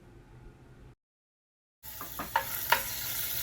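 Ginger sizzling in hot oil in a pan, a soft steady hiss returning after a brief silent gap, with a few light stirring clicks and scrapes.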